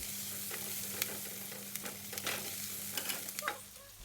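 Chili and spices stir-fry in a pan, a bright crackling sizzle punctuated by repeated scraping and tapping of a spatula, close and fairly clear.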